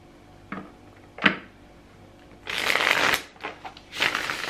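Close-up tarot cards are shuffled, a couple of light taps followed by two longer riffling bursts of rapid flapping.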